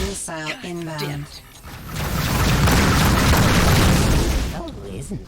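A missile explosion in the space combat game Rebel Galaxy Outlaw, preceded by a synthetic cockpit voice, then a loud, deep rumbling blast that swells and rolls on for several seconds before fading.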